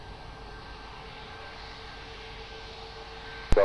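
An airplane takes off at Lisbon Airport, heard as a faint, steady, distant engine drone.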